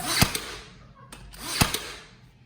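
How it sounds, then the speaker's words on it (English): Nails are driven into 1x6 wooden window trim with a nail gun, two sharp close pneumatic bangs about a second and a half apart, each followed by a short hiss. "I'm going to nail it in, extra nails."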